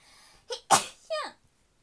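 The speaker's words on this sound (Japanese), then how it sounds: "くしゃみしてきた" A single sneeze with a short sharp intake before it and a voiced trailing sound after, close and fairly quiet.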